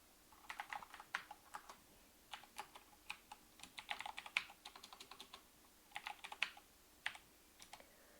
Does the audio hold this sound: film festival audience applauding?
no